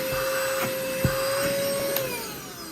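An ANUIMOAR SV09 10000Pa handheld vacuum cleaner runs steadily up close with a fairly quiet, even motor whine and a faint tonal hum, plus a few light clicks and knocks.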